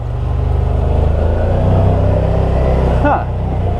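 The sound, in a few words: Yamaha motorcycle engine braking in low gear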